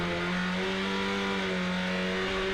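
A SsangYong ute race car at Pukekohe runs flat out at full throttle, its engine a loud sustained drone with steady harmonics that shift slightly in pitch, heard alone without voices.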